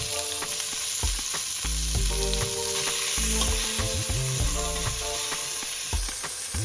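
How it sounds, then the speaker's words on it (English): Onions hitting oil in a pot roast pan give a loud, steady frying sizzle close by, with stirring clatter and a few sharp knocks across the whole stretch, no voices. "and then I like to add my onions."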